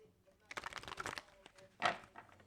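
Soft riffling of tarot cards being shuffled, a quick flurry followed by a brief snap, close and quiet.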